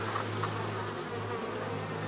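Honey bees buzz around hives at a breeding apiary, a continuous close hum with individual bees passing the microphone.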